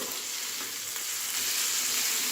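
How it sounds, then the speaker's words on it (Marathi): Stuffed bitter gourds fry in a pan with a steady, close sizzle, turned occasionally, with no talking. "अशा प्रकारे आपण अधूनमधून कारले वर खाली किंवा हलवून घ्यायचे"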